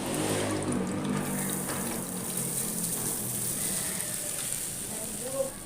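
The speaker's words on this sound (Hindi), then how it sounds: "अब मैं इसके अंदर ये चावल डाल दूँगी।" Rice poured into a pot of hot oil with cardamom for sweet zarda, giving a steady close sizzle and rushing pour, with someone speaking over it.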